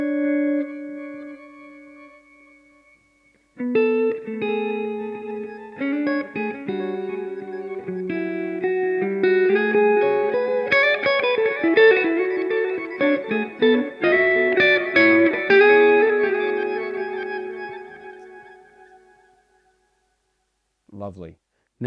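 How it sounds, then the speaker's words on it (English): A guitar played through a Blackstar IDX amp with its shimmer delay engaged: a sustained chord blooms and smears into trailing echoes, then a run of layered notes builds into a dense, shimmering wash that slowly fades out. "Let's hear the shimmer delay just for fun."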